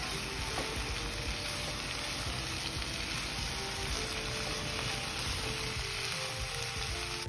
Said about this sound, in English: increase the heat and stir fry them